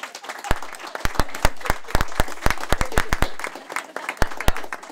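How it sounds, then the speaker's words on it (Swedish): Sparse audience applause for panel debaters at a discussion event, with distinct individual claps ringing out in an uneven, moderately loud patter throughout. "Jag tycker som sagt att vi ger våra debattörer en applåd"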